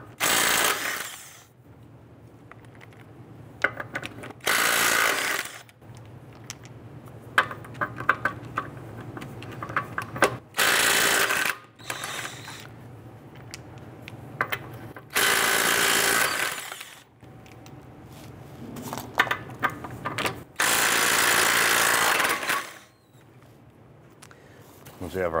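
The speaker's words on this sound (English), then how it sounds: "I'm going to use a 21mm socket. I'm going to loosen and remove our lug nuts." An impact tool spins off the lug nuts on a Chrysler 300 with a 21mm socket, several loud rattling bursts of a second or two each, spaced apart, with someone talking in between.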